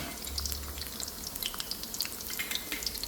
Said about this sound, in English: Deep fry the garlic.